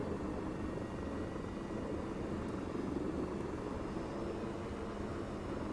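A helicopter in the video game Arma 3 drones steadily with a dense, constant rotor and engine roar throughout, with no talking.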